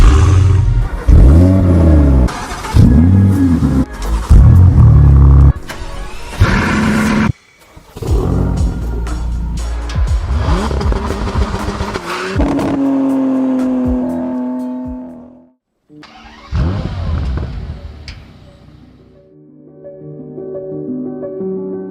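Bentley Bentayga W12 Speed SUV revving its W12 engine, loud close bursts of throttle climbing and falling, then a long rising acceleration that cuts off and is followed by further fainter revs.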